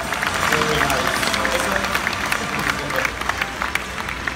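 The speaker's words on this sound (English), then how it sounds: "Give them a huge round of applause, everybody" A theme-park audience at a live special effects show claps for volunteers, a broad wash of applause with crowd murmur and voices mingled in, fairly loud and easing slightly toward the end.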